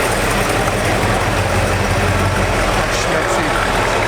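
An Aero car engine idling at a car auction, a steady, loud low rumble that holds without pause, close by, with a crowd murmuring in the background.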